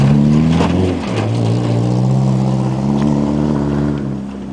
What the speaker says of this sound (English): he takes it around this way in the van